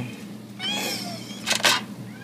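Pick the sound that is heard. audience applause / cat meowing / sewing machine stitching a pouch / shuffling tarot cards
cat meowing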